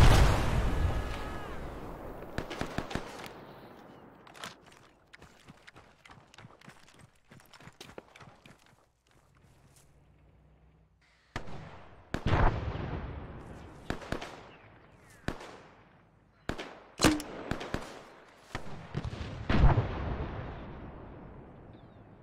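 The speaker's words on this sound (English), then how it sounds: "do you have any idea why the 40 mils in the shorty grenade launcher can be loaded but not fired? Good effect. Why does it fire now?" A 40mm shorty grenade launcher fires in a military video game, with sharp, loud blasts and echoing bangs scattered irregularly across the stretch, some clustered in quick pairs, with no talk.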